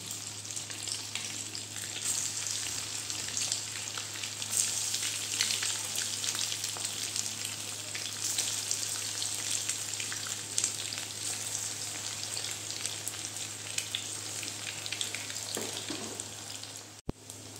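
Egg pakoras deep-frying in hot oil, a continuous dense crackling sizzle that holds steady and close for the whole stretch, with occasional small pops and no voices.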